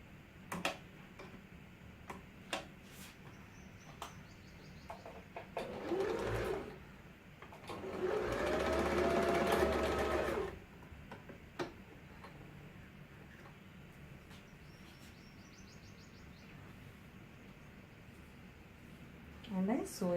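Sewing machine running in a few bursts, the longest a steady hum of several seconds, as selvage is stitched onto the open top of a potli bag; quiet room with faint clicks between runs.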